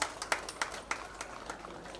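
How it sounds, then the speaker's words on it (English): Scattered clapping from a small audience at a Holi Milan festival, honoring the artists after their performance; sparse, uneven claps over about two seconds, moderately near. "Big round of applause please for each of the artists."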